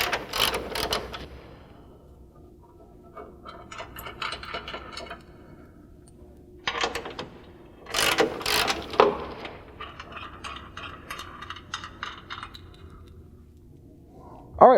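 A ratchet with a 16mm socket loosens a cross member bolt on a Jeep Wrangler JL during rear bumper removal: short bursts of quick metallic clicking, close up, separated by quiet pauses.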